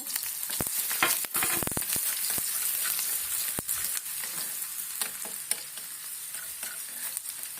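Small onions fry in ghee with a constant bright sizzle. Frequent scraping and clattering from stirring sit close and loud, and no voices are heard.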